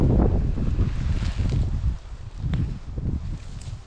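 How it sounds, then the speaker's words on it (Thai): Wind gusting through a Finnish forest during mushroom picking as rain threatens, a steady broadband rush that swells and buffets the microphone, then eases slightly partway through. "ลมเริ่มมาแล้วจ้ะ"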